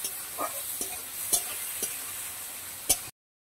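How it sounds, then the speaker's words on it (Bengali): Chopped onion and garlic paste frying in a pan for a jackfruit kabab curry, a steady near sizzle with scattered stirring scrapes and spoon taps, then sudden silence. "এবার পেঁয়াজটা একটু নাড়াচাড়া করে এর মধ্যে রসুন বাটাটা দিয়ে দিলাম। আবার একটু ভালো করে ভেজে নিচ্ছি।"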